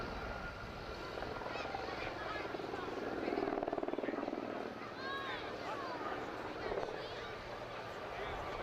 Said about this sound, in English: It's an absolutely superb machine, the Gazelle.